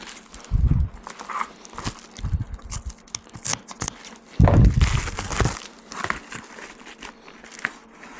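Covering material for an RC plane wing bag is ripped in several short, crackling tears up close, with two louder bursts and scattered handling noises between them.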